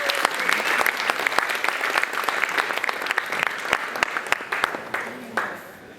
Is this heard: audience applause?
yes